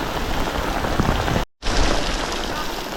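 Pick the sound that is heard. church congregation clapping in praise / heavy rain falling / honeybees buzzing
heavy rain falling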